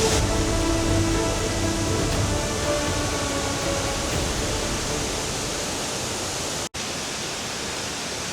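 Guanyin Waterfall in Zhuqi, swollen with rainwater, roars as a dense, steady rush of white noise, loud and unbroken apart from a momentary dropout near the end.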